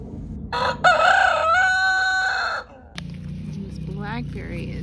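A rooster crows in one long, loud call, and hens in a small backyard homestead coop cluck softly after it. The birds are heard close by with no talk over them.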